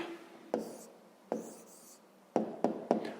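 A pencil writes on paper, soft close scratching strokes in short bursts: two separate marks followed by three quick ones near the end.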